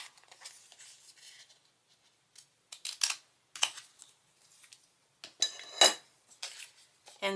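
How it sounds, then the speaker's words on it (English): Scissors cutting cardstock backed with sticky adhesive while making a stamped thank-you card, heard as a series of close, crisp snips and paper rustles separated by short quiet gaps. "get your scissors and cut it out."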